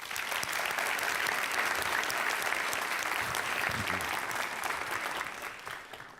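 Sustained applause from a conference audience welcoming a speaker at a media forum, a dense steady clapping that fills the room for about six seconds before tapering off slightly at the end.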